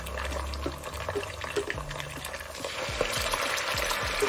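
Ginger garlic paste hits a hot pan over browned onions and sizzles, mixed with stirring scrapes and wet bubbling, moderately loud and close.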